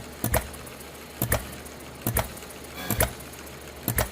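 A Retrol HM 01 ball-governed, throttled low-RPM stationary engine runs alone, its slow exhaust chuffs coming in evenly spaced pairs, about one pair per second, sounding close and fairly loud.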